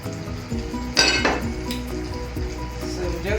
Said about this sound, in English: So we just stir it together